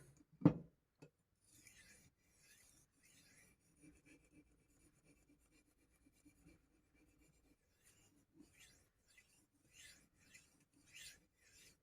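Hunting knife being honed on a high-grit whetstone above 4000, faint intermittent scraping strokes after one louder knock at the start, quiet and close.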